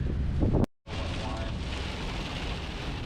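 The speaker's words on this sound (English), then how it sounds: "the rain's coming down hard again right now, as you can see" Heavy rain pours down outdoors in strong wind after a storm that wrecked houses and flipped trucks, a loud, steady broadband roar with wind buffeting the microphone, cut by a brief dropout near the start.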